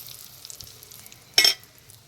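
A brief burst of tempering spices sizzling in hot oil in a pan while making a pickle, about a quarter-second loud hiss standing out from a quiet background.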